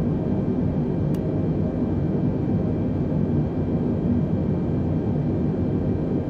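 Airbus A320neo jet taxiing to the gate at Kota Kinabalu, a steady low engine rumble with a faint high whine held at a constant level throughout, with no change in intensity.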